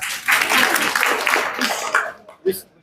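An audience at a religious moderation session for school teachers in Surabaya claps in a brief burst that fades out, ending with a cough or short noise near the end.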